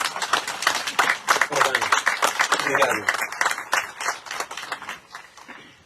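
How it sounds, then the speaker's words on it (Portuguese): Applause breaks out in a chapel during a Santa Luzia feast-day Mass, a dense patter of hand claps rising over spoken thanks and fading near the end, with a voice talking through it. "Acho que merece uma salva de palmas"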